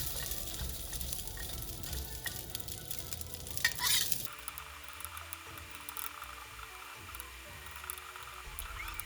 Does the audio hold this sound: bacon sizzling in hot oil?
yes